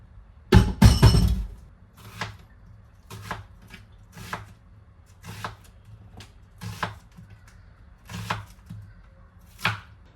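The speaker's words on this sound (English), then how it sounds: "so the vegetables have been cut" Knife chopping tomatoes and peppers on a cutting board: a loud burst of rapid cuts, then a series of separate sharp chops spaced roughly a second apart, close up with no talking.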